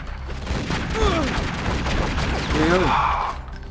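Gunfire rattles in short overlapping bursts at a Jeep in the video game Tomb Raider Legend, with booming shots close and loud against a noisy game background.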